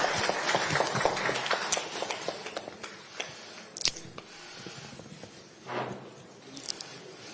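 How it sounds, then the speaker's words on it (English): Applause from the audience at a Kenya-Ghana joint media briefing at Jubilee House in Accra, a dense patter of clapping that swells and thins over several seconds, with a few sharper bursts. "Let's give them a round of applause"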